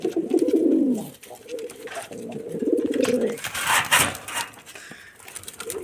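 Rajshahi Giribaz pigeons coo in a low, throaty burst at the start, followed by softer cooing phrases, with rustling and handling noise later on.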